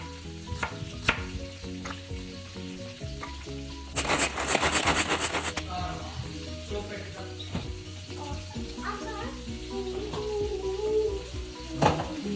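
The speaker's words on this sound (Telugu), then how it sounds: "కట్ చేసుకున్న బెండకాయల్ని షాలో ఫ్రై చేసుకొని పక్కన పెట్టుకోవాలి." Cut okra shallow-fries in hot oil, crackling and sizzling steadily with occasional stirring clinks, swelling to a louder sputtering burst partway through.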